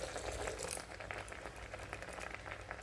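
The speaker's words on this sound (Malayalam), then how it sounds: "നല്ലതായിട്ട് തിളച്ച് പറ്റിയിട്ടുണ്ട്" Payasam of coconut milk, first and second extracts, boiling in a pot, giving a steady close bubbling and simmering hiss throughout with no talk.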